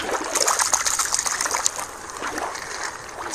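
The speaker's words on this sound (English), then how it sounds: "Let's put the squid back in the water." A toy squid is put back into water, giving soft splashing and trickling sloshes close by, irregular little bursts of dribbling liquid with no talk over them.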